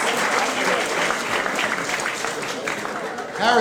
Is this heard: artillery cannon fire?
no